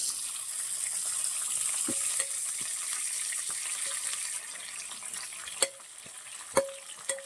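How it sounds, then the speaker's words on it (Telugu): Onion, green chili and curry leaves frying in oil for a raw banana and prawn curry: a soft steady hiss of oil with a few sharp clinks of a utensil against the pan near the end, quiet and close. "ఆయిల్ అయితే వేసుకున్నాను. అన్ని రెడీ చేసుకున్నాను కదా, ఉల్లిపాయ, పచ్చిమిరపకాయ, కరివేపాకులు అన్నీ వేసాను."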